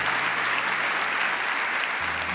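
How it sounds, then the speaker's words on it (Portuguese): Audience applause at a talk by a Catholic priest, a dense, loud, steady wash of clapping from a crowd that holds for a couple of seconds. "Vamos aplaudir isso com muita força?"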